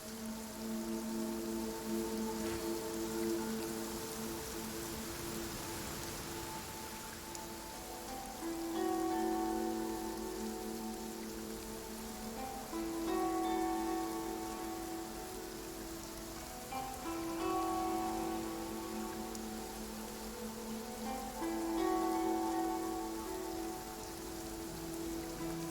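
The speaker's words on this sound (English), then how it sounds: "It always rains when I go on an adventure." Steady rain patters down in the video game Genshin Impact, a continuous wash of falling drops beneath soft, recurring musical tones.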